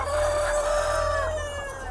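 A rooster crows on a chicken farm, one long drawn-out call rising and holding over a steady low hum of farm equipment, with other fowl faintly audible in the background.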